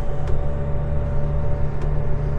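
A Manitou telehandler with a roughly 145 horsepower engine rolls downhill under load, a steady low engine drone and mechanical rumble continuing evenly throughout with no one talking.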